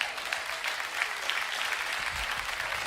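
A church congregation applauding the Lord during a sermon, a steady, moderately distant patter of many hands clapping without a break.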